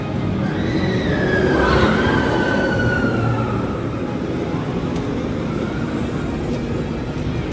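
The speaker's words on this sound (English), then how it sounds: "No, that was just a train going by." A train passes by at Magic Kingdom, a steady loud rolling rumble with a rising and falling whine and hiss in an open outdoor setting.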